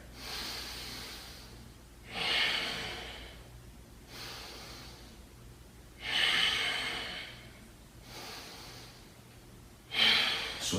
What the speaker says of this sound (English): 3 breaths here.